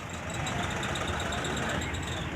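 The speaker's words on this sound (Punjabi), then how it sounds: "ਅੱਗੇ ਜੀ ਜੌਂਡੀਅਰ 52 ਚਾਰ ਟਰੈਕਟਰ ਆ ਜੀ" A John Deere tractor at a tractor market in Talwandi Sabo idles with a steady, fairly faint engine drone and a faint high whine, unbroken for the short stretch.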